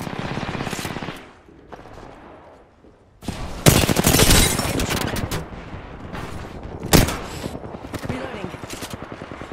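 Bursts of rapid automatic gunfire in a shooter video game, loud and close, with a quieter lull before heavy sustained volleys and a sharp later burst, while players talk over it.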